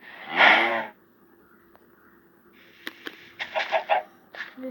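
A Minecraft chicken gives a quick run of short clucks near the end, after a brief voice at the start and a quiet stretch.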